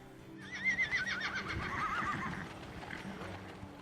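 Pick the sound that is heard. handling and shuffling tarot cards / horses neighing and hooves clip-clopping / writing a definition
horses neighing and hooves clip-clopping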